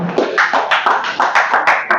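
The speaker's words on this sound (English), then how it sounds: "Can we clap for her?" Classroom clapping for a student, a small group of children and adults beating hands together in a fairly close, loose rhythm of bright slaps, loud and alone without talk.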